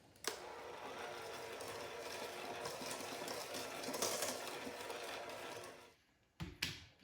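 An electric mixer runs steadily at low speed, mixing meringue with vanilla extract for a pumpkin s'mores pie, a continuous close motor whir that stops near the end, followed by a couple of brief knocks.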